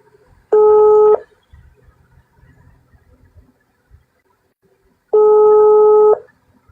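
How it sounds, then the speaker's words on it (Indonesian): Two loud electronic ringback tones from a phone call, each about a second long, separated by a few seconds of near silence. "dari tadi berdering tapi nggak diangkat"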